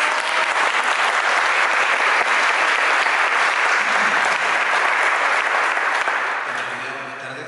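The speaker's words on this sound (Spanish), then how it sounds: "Un aplauso para él." Sustained audience applause at a church concert, loud and dense throughout, tapering off slightly in the final second.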